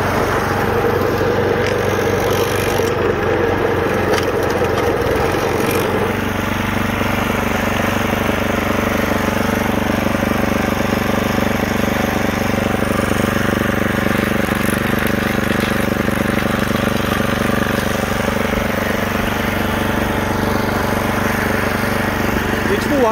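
Snow blower engine working through a hard snow pile left by a road plow: a steady, loud mid-pitched motor drone that deepens in tone partway through, running without pause.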